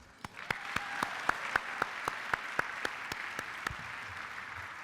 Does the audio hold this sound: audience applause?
yes